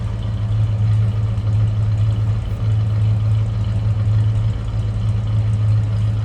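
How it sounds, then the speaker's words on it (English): A 1978 Chrysler Cordoba two-door hardtop idling through dual exhaust without catalytic converters, producing a steady, even low rumble at close range with no variation in revs. "That is dual exhaust"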